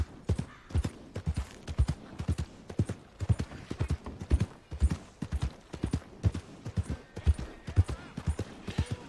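A horse clip-clops at a steady trot through nature in Red Dead Redemption 2, the hoofbeats coming in close, regular groups of strikes that stand alone and are clearly audible.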